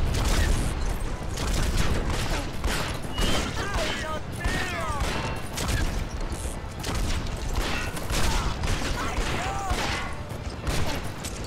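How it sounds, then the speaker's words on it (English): Rapid, continuous chain gun fire in the video game Red Dead Revolver rattles on with crashes and clanks, dense and loud throughout, mixed with game sound effects. "Gotta try to keep the buff of that chain gun."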